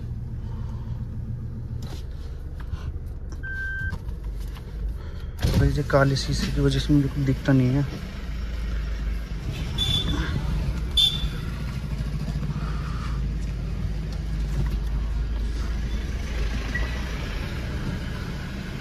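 A car is driven slowly indoors, its low engine rumble steady throughout while someone talks over it.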